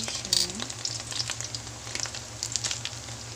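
Alamang shrimp omelet (okoy) fries in oil, giving a soft, close, steady sizzle with light crackles and a brief scraping stir.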